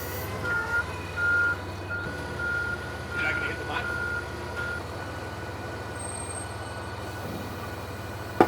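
A truck reverses at a truck stop, its backup alarm giving clear, evenly spaced beeps over a steady low engine rumble, with faint voices in the background.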